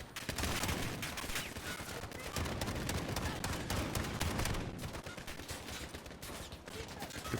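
Dense gunfire in Call of Duty 2, rapid overlapping bursts of automatic and rifle shots in a steady fusillade lasting several seconds, fairly loud and sustained.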